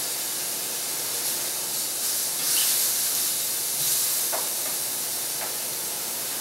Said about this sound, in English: I'm just going to give it a quick rinse.